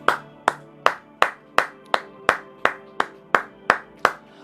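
A church congregation claps in unison, about a dozen crisp, evenly spaced beats at a steady rhythm, loud and close with a faint musical tone underneath.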